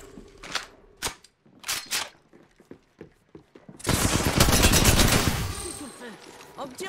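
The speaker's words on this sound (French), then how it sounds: "On me tire dessus." Gunfire in the video game Apex Legends. A few sharp single shots come first, then a dense, loud burst of rapid automatic fire that lasts a couple of seconds, with scattered clicks and clatter afterward.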